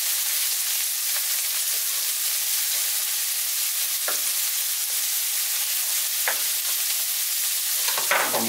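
Garlic and chili frying in a pan on a Turkish home stove while making pacanga börek, with a steady loud sizzle broken by several scraping stirs of a utensil, and no talk.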